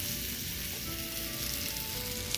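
A buttered tortilla laid butter-side down in a hot pan on the stove, sizzling in a steady, close, continuous hiss with no talking.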